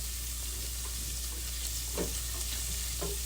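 Garlic frying in a hot pan, a constant close hiss of sizzling oil with a few soft stirring scrapes over it.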